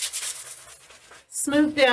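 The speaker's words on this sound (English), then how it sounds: "So I'm just going to take my sanding block and just lightly go over it to kind of smooth down" Soft rasping scrapes of a sanding block rubbing painted wood in short strokes, followed by a brief burst of close speech.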